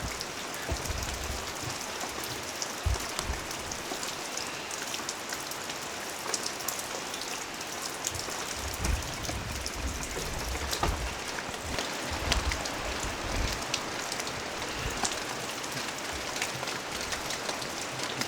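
Steady rain after an all-night December rainstorm, falling and pattering on surfaces in a dense, continuous hiss at close range, with no one speaking.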